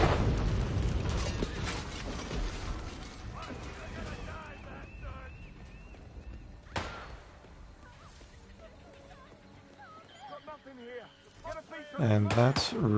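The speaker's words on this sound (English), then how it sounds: "Let's detonate." A remote explosive detonates in Hitman 3 in Bangkok, giving a loud burst at the start that fades into a long rumbling tail. Later come a sharper pop and assorted game sounds.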